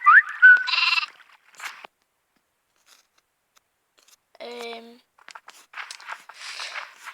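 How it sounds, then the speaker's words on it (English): A Minecraft Pocket Edition sheep lets out a single short, nasal bleat, clear and close, set between bursts of someone talking before and after it. "Sheep."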